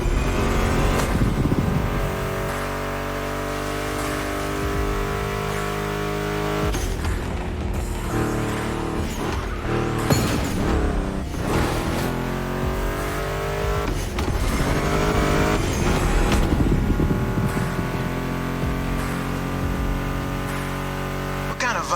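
A deep Mustang GT muscle-car engine in a video game rumbles and revs steadily throughout, loud and continuous, with gear changes and surges in pitch.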